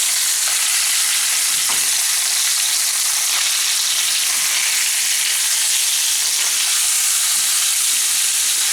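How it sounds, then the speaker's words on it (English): Chicken cutlets sautéing in a pan, a loud, continuous frying hiss with faint crackles and occasional light taps, unbroken for the whole stretch and with no talking. "That's how it is when you're sauteing."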